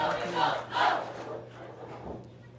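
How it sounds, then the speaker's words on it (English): A crowd cheers in bursts at the 2016 Class D&C boys state basketball finals, two strong swells of shouting near the start that fade into a lower murmur. "Some good cheering going on in the crowd"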